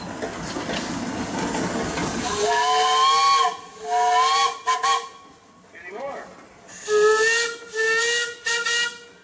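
Steam engine whistles blow at a pioneer engineers parade, with hissing steam, then several loud, shrill blasts in short bursts; someone briefly speaks between them.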